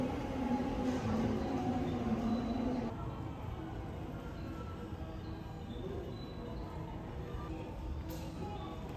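A Hello Kitty themed train passes as a steady rolling rumble, louder for the first few seconds and then easing to a softer continuous drone with no clear talk over it.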